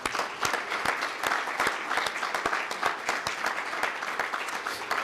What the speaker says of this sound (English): So maybe the EAG and the Secretariat will give the citizens a round of applause.